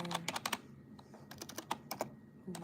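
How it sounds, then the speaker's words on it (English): Quiet, close typing on a computer keyboard comes in quick bursts of clicking keystrokes separated by short pauses, with no speech over it. "don't clock my typing"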